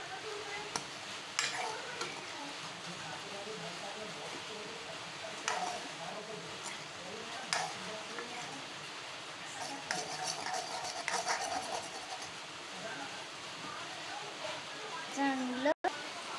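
Pasta being stirred in a pan on a gas stove during a kids' cooking session, with soft scraping and clinking of utensil against the pan, light sizzling underneath, and a voice talking over it.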